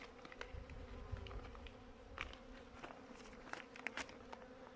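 Honeybees buzz around their hive during winter feeding, a faint, steady drone with occasional closer passes and small clicks, no voices.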